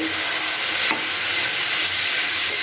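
Radish ghonto is stirred and mixed in a pan, a close, steady sizzling hiss with one brief scraping swell partway through and no talking.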